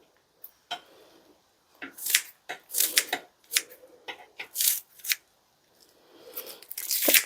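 Green onions are trimmed on a cutting board at home for a pot roast dinner, giving a series of crisp, close snips and crunchy cuts in an irregular rhythm with short pauses.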